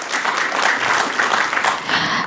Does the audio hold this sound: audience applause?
yes